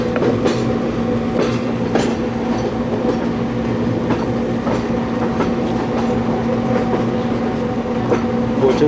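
The Subak Raftar railcar on the Rawalpindi to Lahore line runs steadily along the tracks during the monsoon. A constant loud rumble is heard from inside the coach, with rhythmic clickety-clack of the wheels over rail joints and a faint hum underneath.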